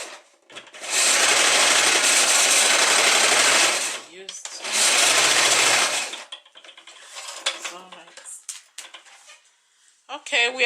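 An LK150 knitting machine carriage sweeps across the needle bed while knitting an A-line skirt, making two long, loud, rushing mechanical passes up close, followed by quieter clicks and handling.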